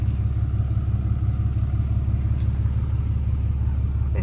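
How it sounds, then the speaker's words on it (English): A pickup truck idles and creeps in reverse while backing a hotshot trailer loaded with steel I-beams, giving a steady low engine rumble that stays constant and fairly close with no talk. "I'm going to back the trailer in there."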